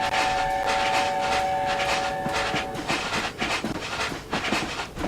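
A steam locomotive whistle from the Sir Nigel Gresley in Train Simulator 2018 holds a steady, loud tone for about three seconds over the continuous rumble and clatter of the running train, which carries on after the whistle stops.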